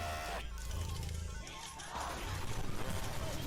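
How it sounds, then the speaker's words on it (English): A sudden loud crash and clatter, like furniture toppling, followed by scattered knocks and thumps. "He crashed out so bad he flipped his chair."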